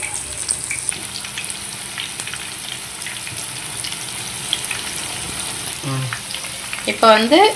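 Banana flower vada deep frying in a pan of hot oil gives a steady, close sizzle throughout, with brief clatter and the sound of running water near the end.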